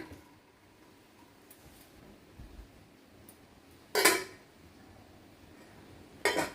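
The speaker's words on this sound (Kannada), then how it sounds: "ಸಿಮ್ಮಲ್ಲಿಟ್ಟು ಈ ಪಾತ್ರೆಯನ್ನು ಇದರಲ್ಲಿ ಇಟ್ಬಿಡೋಣ" A metal cooking pot sets into a larger vessel of simmering water on the stove: two sharp metallic clanks, one midway and one near the end, over a quiet low background hiss.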